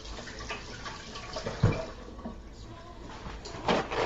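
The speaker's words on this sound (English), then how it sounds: "Ooh, I gotta wash my hands." A kitchen tap runs while hands are washed beneath it, a steady, moderate wash of water with a couple of louder splashes as the hands move through the stream.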